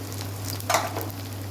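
Tomato dropped into hot spiced oil with onion and garlic for kabuli chickpea ghugni, giving a steady close sizzle that swells into a brief louder spit partway through before settling back.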